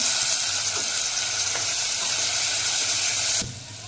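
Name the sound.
frying onion with turmeric, red chili and tomato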